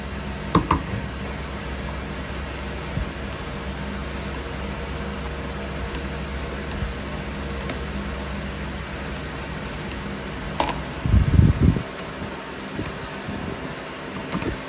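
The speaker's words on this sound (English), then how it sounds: "I have a huge fan on in here." A large electric fan whirs steadily throughout a room with no air conditioning, a constant broad rushing hum with a few brief knocks near the end.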